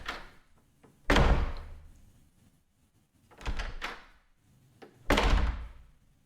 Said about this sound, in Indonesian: Jadi pintu kayu dibuka tutup buka tutup.